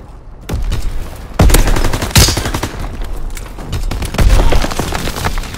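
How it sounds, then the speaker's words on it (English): Loud WWII-era gunfire in a shooter game, rapid automatic bursts and single heavy shots in close succession, dense and near, with booming impacts between volleys. "Keep firing!"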